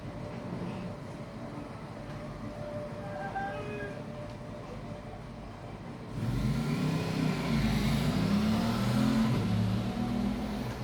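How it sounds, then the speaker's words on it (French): A motorcycle engine passes nearby, its rumble swelling abruptly halfway through and staying loud to the end over faint background noise. "Désolé pour le bruit de la moto."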